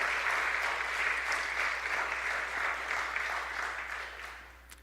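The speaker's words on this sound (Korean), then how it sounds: "우리 정지원 씨 한번 환영의 박수 주세요" Welcoming applause from a church congregation at a Sunday service, sustained even clapping from many hands that tapers off toward the close.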